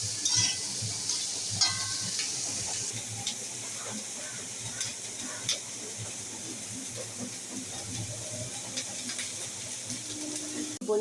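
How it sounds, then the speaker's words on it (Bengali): Paneer and mixed vegetables fry on high heat in a pan, giving a constant steady sizzle and hiss with occasional scraping stirs, fairly quiet and close. "হাই আঁচে এই পনির সবজিগুলো ভেজে নিতে হবে"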